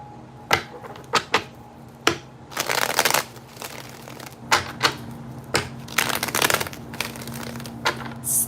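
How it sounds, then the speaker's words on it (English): Tarot cards are shuffled in repeated bursts of riffling and slapping, close and fairly quiet, with short pauses between shuffles and no talking. "I want to take some cards here"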